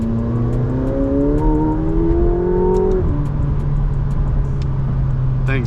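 A 2024 McLaren 750S supercar accelerates, its engine note climbing in rising harmonics, then dropping after a shift into a steadier drone, loud and close from inside the car.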